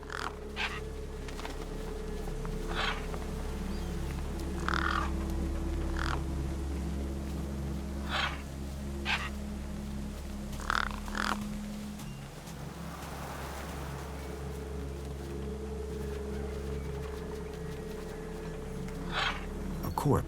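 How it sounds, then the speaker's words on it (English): Crows caw in the video game Beyond A Steel Sky, with short harsh calls repeating at irregular intervals over a steady, low, humming ambient background. "The gang birds were eyeing up the corpse hungrily."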